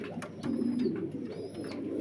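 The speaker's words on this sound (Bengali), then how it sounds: "দুইটা চোখই একেবারে আগুন চোখের কবুতর দেখেন" Tiger racer pigeons at a pigeon farm cooing softly in low, rolling murmurs, close by, with a few sharp clicks and faint whistling tones in the background.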